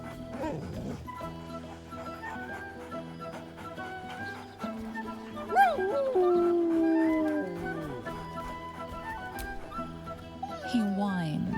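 A dog whines and howls in rising, wavering tones, sustained over several seconds, with a voice talking around it.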